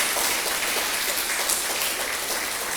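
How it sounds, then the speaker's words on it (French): An audience at a university doctoral event applauds warmly, a dense, steady wash of clapping throughout with no talk. "Je remercie et que je vous demande d'applaudir chaleureusement."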